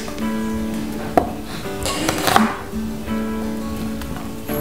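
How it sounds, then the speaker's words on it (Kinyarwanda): A knife chops onions into small pieces on a board, with a few sharp knocks and scattered softer cuts over a steady background hum. "Nacyo ndagikatamo utuntu turinganiye."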